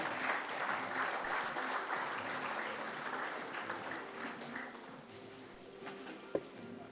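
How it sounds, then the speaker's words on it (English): At an auto retail conclave inaugural session, a hall audience gives a soft, distant round of applause for a vehicle unveiling. The clapping is steady at first and gradually thins out, and a single sharp knock comes near the end. "please put your hands together for the unveiling of the new CMVR."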